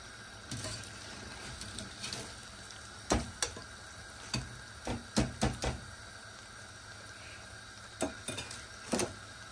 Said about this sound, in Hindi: रोल फ्राई होके बिल्कुल तैयार हैं और देखने में बहुत मज़ेदार लग रहे हैं।